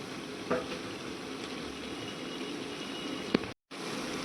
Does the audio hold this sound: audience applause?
no